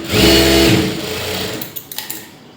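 A sewing machine runs in one steady, loud burst while stitching a lining blouse, then slows and stops, followed by a few sharp clicks.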